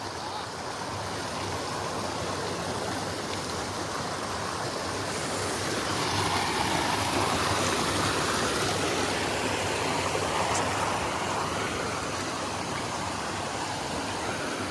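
A steady, unbroken rush of running water, loud and close, continues alone for the whole stretch without pauses.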